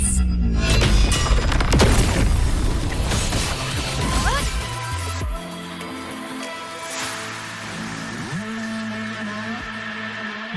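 Cannon firing in the Wuthering Waves video game, a heavy booming blast with crashing impact and rumbling debris, followed by a lower sustained roar and layered game effects.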